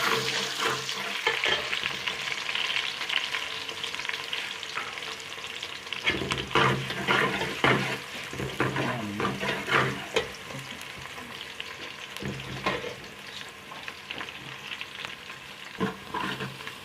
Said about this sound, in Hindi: ये हमने प्याज डालना है, 1 अदद प्याज काटा हुआ था।